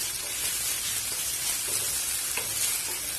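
Steady, dense sizzling and crackling of ginger garlic paste sautéing in a hot pan, continuous throughout with faint stirring scrapes.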